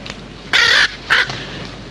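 A bird gives two loud, harsh caws close by, the first longer than the second, with a quiet background and no voices.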